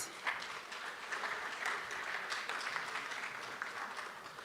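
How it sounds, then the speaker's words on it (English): Audience applause at a national parole review summit, a fairly faint but steady patter of many hands clapping from the hall, continuing throughout. "Let's give the DM a round of applause."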